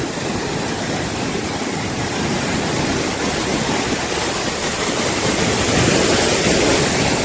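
Small ocean waves break on a beach in a continuous, fairly loud wash of surf with no voices.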